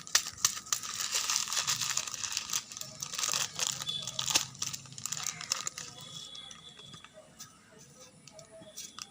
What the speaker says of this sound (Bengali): এর মধ্যে নুডলসগুলো ভালোভাবে ভেঙে নিব, গুঁড়ো করে নিব।